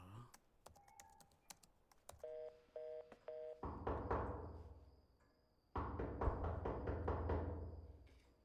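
A quick series of telephone keypad tones in the film Three Men and a Ghost beeps in an even rhythm, then a louder hiss and tone-like hum fill the rest, with faint clicks early on.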